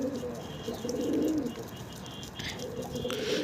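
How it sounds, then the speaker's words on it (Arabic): A hand-raised bird chick coos in low, soft, repeated phrases close by, with a few faint chirps and rustles around it. "هذا الفرخ اللي ربيته انا على يدي"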